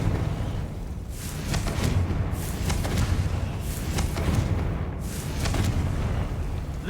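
Confringo explosive spell impacts in Hogwarts Legacy: a rumbling series of booms and bursts over seven seconds, with several sharp blasts rising above a continuous heavy low roar and no talking.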